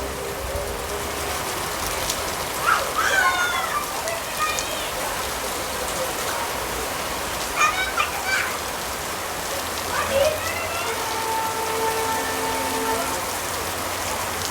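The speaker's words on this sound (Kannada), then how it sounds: "ನಂಜನಗೂಡಲ್ಲಿ ಮಳೆ ಬೀಳ್ತಿರ್ಲಿಲ್ಲ. ಇವತ್ತು ಸಿಕ್ಕಾಬಡೆ ಜೋರಾಗಿ ಬೀಳ್ತಾ ಇದೆ." Heavy rain falling hard in Nanjangud, the first rain of the year, making a dense continuous hiss throughout, with faint distant tonal sounds and a voice briefly audible in the background.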